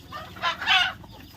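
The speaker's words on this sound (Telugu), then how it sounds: "ఇగో ఇక్కడ కూడా ఒక కోడి కూర్చొని ఉందండి" A country hen on a poultry farm gives two short bursts of clucking, close and moderately loud, against a quiet barn background with no talking.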